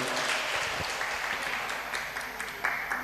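A church congregation clapping loudly together, a continuous dense patter of many hands heard up close, with no talking.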